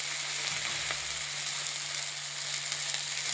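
Chili and turmeric spices sizzle in hot oil with a steady, close hiss of frying that runs the whole time, unbroken and without voices.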